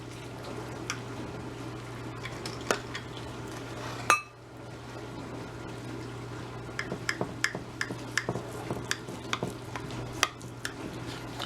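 Chili cheese fries casserole being cut up in its baking dish, with a utensil scraping and clinking against the dish in scattered light taps and one sharper knock, close and fairly quiet over a steady background hum.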